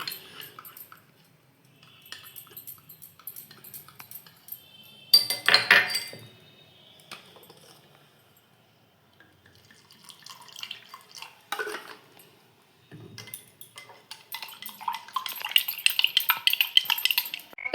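Cornflour mixed with a little water is stirred in a small glass or bowl while making kulfi malai, with intermittent scraping swirls and light clinks of a spoon against the container, separated by quiet gaps.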